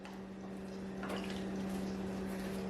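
Water splashes and trickles steadily as a cup is poured into a mixing bowl for baking, heard close over a constant low hum, with no talking.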